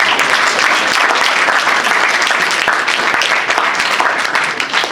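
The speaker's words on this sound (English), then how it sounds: "give yourselves a round of applause for coming out here" Crowd applause at a live spoken-word and music performance, a loud and steady wash of many hands clapping close up that holds evenly for the whole stretch without a break.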